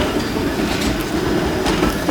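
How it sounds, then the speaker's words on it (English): A Toronto TTC Carlton streetcar rolls past on city tracks at Spadina and College, a loud, steady rumble of wheels on rail with faint metallic squeals and no talk. "It was a Carlton streetcar."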